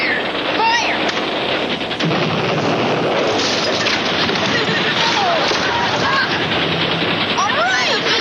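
Artillery gun firing as a sound effect in a TV comedy war sketch, a dense, continuous roar of booms and blasts filling the scene, loud throughout with faint whistling tones on top.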